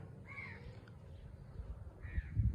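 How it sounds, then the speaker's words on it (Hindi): Two crow caws in the distance, about two seconds apart, over a low outdoor rumble. "चिड़ियों का शोर होता है, कौवों की आवाज़ होती है"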